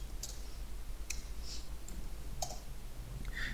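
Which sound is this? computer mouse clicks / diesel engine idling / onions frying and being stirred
computer mouse clicks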